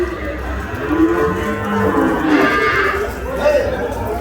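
Cattle of a heavy-sized bull breed moo at a busy cattle market in Vaniyambadi, the low bellowing calls rising over a steady crowd murmur and outdoor bustle.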